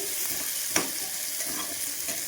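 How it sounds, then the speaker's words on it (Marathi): Onion and tomato sizzle in a pan for mushroom masala, a steady close hiss with one brief clink or stir near the start and no talk. "कांदा परतून झालेला आहे, आता त्यात आपण टोमॅटो टाकूया"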